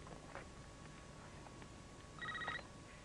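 An electronic telephone ring trills briefly in a quiet indoor space, a short warbling burst standing out near the end over low background hum.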